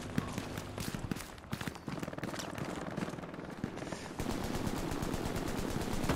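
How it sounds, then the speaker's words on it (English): Machine gun fire in Hell Let Loose, heard as dense rattling bursts of rapid shots that go on without a break and grow louder and more continuous toward the end, with little talk. "They have got a big machine gunner somewhere, because fucking bullets are going all over."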